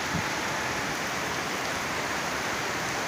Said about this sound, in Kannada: ನೋಡಿ ಎಷ್ಟು ಜೋರು ಮಳೆ ಬರ್ತಾ ಇದೆ